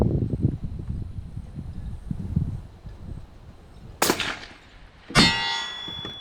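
A rifle bullet strikes a steel target at 300 yards on an outdoor range: two sharp metallic clangs about a second apart ring out after quiet low rumble, each with a bright lingering ring.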